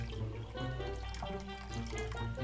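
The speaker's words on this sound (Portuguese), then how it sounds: "E a gente pega um pouquinho de água só." A small amount of water is poured into a pot, a continuous soft trickle and splash running steadily throughout at moderate distance.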